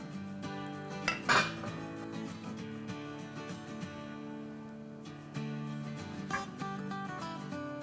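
Chicken pasanda being served out of a pot, with a few close clinks and scrapes of a spoon against metal over a steady background, no talking.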